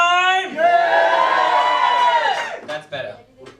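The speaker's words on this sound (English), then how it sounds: "Come on, give me a cheer." Theatre audience at a charity stand-up comedy night for Providence Row, breaking into a loud sustained cheer with whoops and shouts that swells and then fades into scattered voices.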